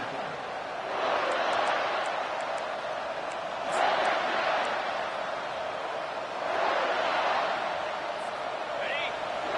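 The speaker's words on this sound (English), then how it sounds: "This crowd knows when to bring it." Simulated stadium crowd roar from a Madden football video game, a steady broad wash that swells in three waves, loud and continuous with no clear talk over it.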